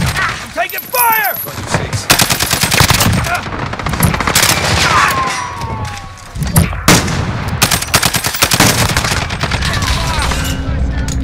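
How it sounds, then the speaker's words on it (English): Gunfire in the Modern Warfare video game on PS5, with FN SCAR-H rifle fire: loud, close bursts of rapid shots and automatic fire layered with explosions and radio chatter, voices talking over the combat. "I'm taking fire!"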